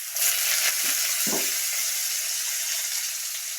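Pointed gourd frying in fish oil gives a bright, steady hissing sizzle close up, with a couple of soft utensil knocks early on and no voices.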